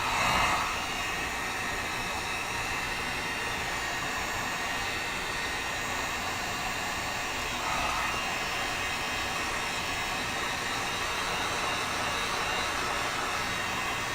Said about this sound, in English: Hopefully the heat gun sound isn't too bad.